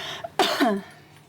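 A single close, rough cough following a brief click, then quiet.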